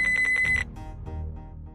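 A telephone rings with a bright electronic trill for about half a second, then cuts off, leaving faint low background noise.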